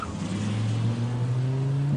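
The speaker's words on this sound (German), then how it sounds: "Montalbano setzte sich ins Auto und raste los." Car engine revving as the vehicle speeds off, a steady loud motor drone with rising pitch over two seconds, alone without talk.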